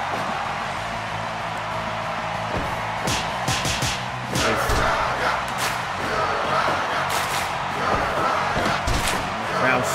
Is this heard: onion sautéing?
no